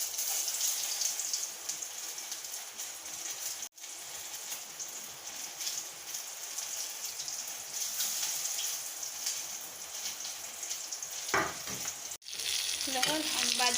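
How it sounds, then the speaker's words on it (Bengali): Batter-dipped pumpkin leaf fritters crackle and sizzle in hot oil, a steady, close frying hiss with brief stirring clatter near the end and no speech. "এখন এটা এরকম ডুবাইয়া আমি তেলে ভাজি নিব।"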